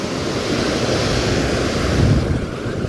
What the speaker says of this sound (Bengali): দেখো জল কত দূরে এসে পড়ছে